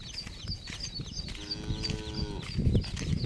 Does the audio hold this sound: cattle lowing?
yes